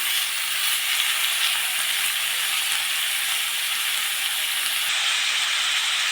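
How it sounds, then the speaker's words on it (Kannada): Fenugreek and spinach leaves fry in a pan, giving a steady, dense sizzle that holds evenly throughout with no voices over it. "ಮೆಂತ್ಯ ಸೊಪ್ಪು, ಪಾಲಕ್ ಸೊಪ್ಪು. ಸ್ವಲ್ಪ ಫ್ರೈ ಆಗಲಿ."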